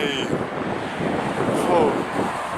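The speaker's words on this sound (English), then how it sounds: "It's very windy right now." Wind gusting across the microphone outdoors in Alberta, a continuous rumbling buffet with a brief chirp-like tone near the start.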